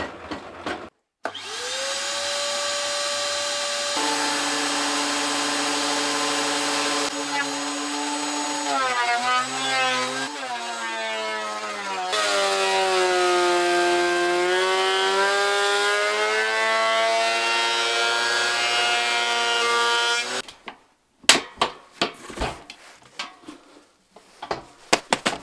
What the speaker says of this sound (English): Let's put some timber through and see if it really does suck.